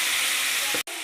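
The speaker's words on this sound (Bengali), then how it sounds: "মশলার উপরে দিয়ে আর একটু ভাজলাম ভালোভাবে।" A ginger and cumin spice paste fries in a pan, giving a steady loud sizzling hiss that cuts off briefly near the end before carrying on.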